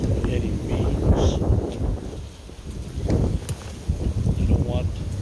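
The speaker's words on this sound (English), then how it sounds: "I don't want the wind to be blowing this tripod over on this equipment" Gusty outdoor wind buffets the microphone near a camera tripod, with broadband rumbling surges that rise and fall throughout, and low-level voice-like activity mixed in.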